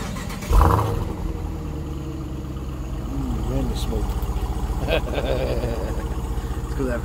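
A Dodge V8 HEMI car engine cranks and catches with a loud burst, then settles into a steady, rumbling idle close by while people talk over it.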